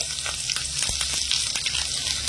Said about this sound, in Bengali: তেলটা যখন হালকা গরম হয়ে যাবে দিয়ে দেবো 5 ফোড়ন আর একটা শুকনো লঙ্কা, আর দিয়ে দিচ্ছি সামান্য একটু আদা কুচি